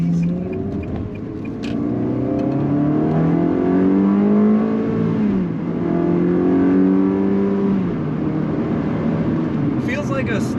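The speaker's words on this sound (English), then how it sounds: "That iconic engine sound is alive and well." A 2004 Ferrari 360 Spider F1 convertible accelerating on the road, its engine note loud and close, climbing in pitch, dropping at a gear change, then climbing again.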